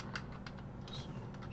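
Typing on a computer keyboard while filling in dialogue entries, a quick run of light clicky keystrokes close by with no talking.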